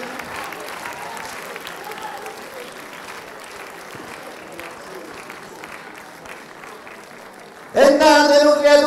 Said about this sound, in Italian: Continuiamo con l'applauso, così.